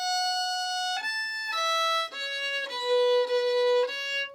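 Fiddle playing a short, easy tune phrase with slurred bowing, clear sustained notes gliding between pitches in a steady melodic line, close and alone with no talking.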